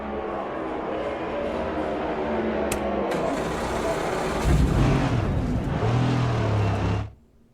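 A NASCAR race car engine in the video game NASCAR 25 drones and revs steadily, rising to a louder, rougher roar before cutting off abruptly near the end.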